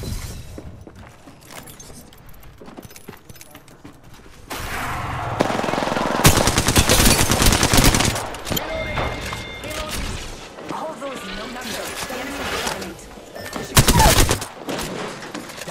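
Automatic gunfire in the video game Apex Legends, rapid bursts and sustained fusillades that swell loud in the middle and again near the end, with thuds and shattering under in-game voice chatter.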